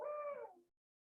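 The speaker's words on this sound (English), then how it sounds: "Barred owls, which are most common around, we hear them" A barred owl gives a single short hooting call heard on a winter night, a clear, slightly descending note that fades out quickly into silence.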